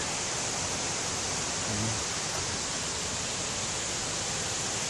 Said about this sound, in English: Get a better look at the creek here